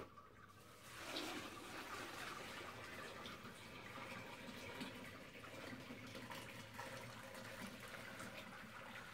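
Sparge water flows steadily through barley grain while brewing an IPA, a faint, continuous trickling and splashing like a filling vessel, with no talk.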